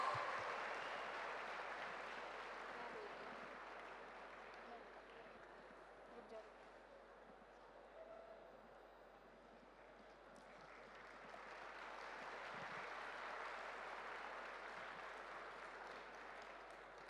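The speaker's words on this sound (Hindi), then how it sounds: "Have a huge round of applause." Audience applause at an ICAI event with Chairman of Ahmedabad introductions, a steady wash of clapping that swells near the start, dips in the middle and rises again toward the end, fairly distant in a hall.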